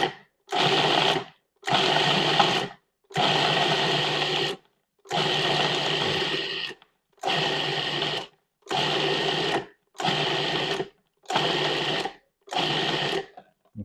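Food processor chopping mushrooms for vegan sausage cheese balls, whirring in eight short pulsed bursts of roughly one second each, separated by brief silences, loud and close with no talking.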